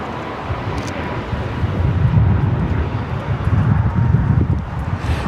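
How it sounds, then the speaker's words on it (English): Alaska Airlines Boeing 737 MAX 9 in Seattle Kraken livery taking off from Los Angeles airport, a moderate rumbling jet roar that swells and wavers with wind-like texture, some distance away. "This is Alaska Airlines 1348 taking off to Puerto Vallarta on the MAX 9 in the Seattle Kraken livery."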